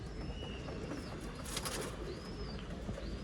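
A pigeon coos faintly and intermittently in a quiet setting, with a brief flutter of wings midway.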